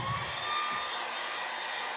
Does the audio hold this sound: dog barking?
no